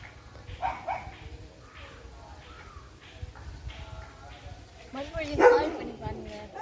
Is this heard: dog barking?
yes